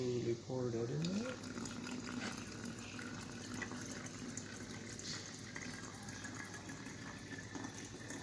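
Liquid poured slowly into a Neo CO2 bottle, a steady faint trickling and gushing that runs on quietly after a short rising tone at the start.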